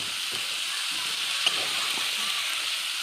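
Spices for a rohu fish and cauliflower curry fry and are stirred in hot oil, a steady close sizzle with a single light scrape partway through and no talking.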